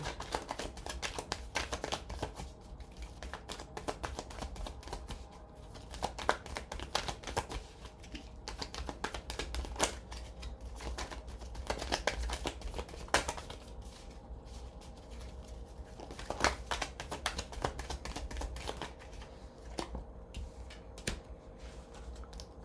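Tarot cards are shuffled and drawn close up: continuous quick riffling and tapping of the deck, with soft crinkles and clicks throughout and no talking.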